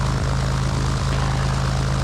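A 1978 Cessna T210M's propeller engine drones loud and steady while taxiing at an airport, a close continuous pulsing roar with no speech over it.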